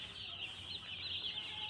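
Broiler chickens on a poultry farm cluck and chatter continuously as a dense flock, a faint steady murmur of many birds with a bright high hiss running through it.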